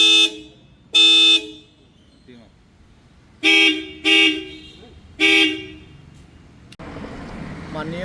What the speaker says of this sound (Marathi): हॉर्न मॉडिफाईड आहेत.